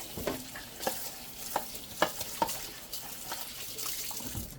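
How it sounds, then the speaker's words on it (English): Plastic recyclables are rinsed under a running kitchen tap with a broadband water hiss and a few sharp knocks and clatters against the sink, fairly steady and moderately quiet, with no talking. "let's continue rinsing"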